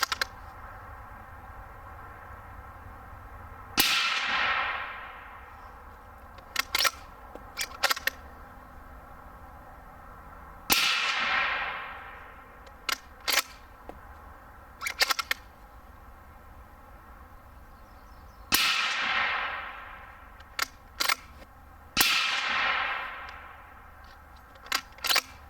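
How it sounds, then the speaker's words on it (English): Suppressed rifle firing Barnes 90 grain open tip match rounds into a dirt berm: four loud cracks spread irregularly, each with a long ringing decay, with softer mechanical clicks between them and no talking. "I'm just going to shoot into the dirt berm."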